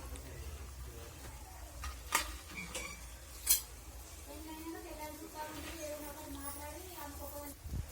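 Boti fry of goat tripe with coriander is stirred in a pan, with soft scraping and a faint sizzle under a steady low hum. A couple of sharper clinks from the spoon stand out.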